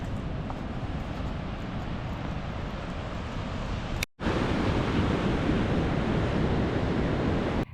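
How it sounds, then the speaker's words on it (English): Southern Ocean surf washes onto the beach at Kennet River on the Great Ocean Road, a steady loud roar mixed with wind buffeting the microphone and a brief cut midway. "so let's go check out the beach."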